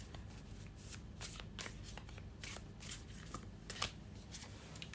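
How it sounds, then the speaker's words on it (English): Tarot cards being shuffled by hand in a continuous run of soft riffling and flicking bursts, close and fairly quiet, with no talking over them. "let's shuffle with intention."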